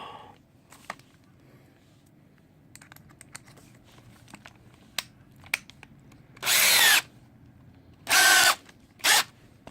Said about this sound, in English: you want to set your drill to actually drill